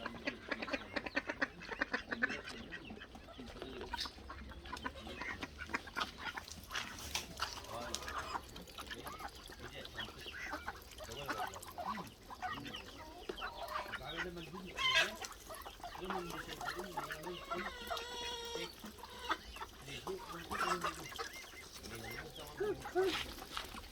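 Farm ducks quacking and chickens clucking on a Turkish farm with turkeys, a scattered, lively chorus of calls at moderate distance, with people talking over it now and then.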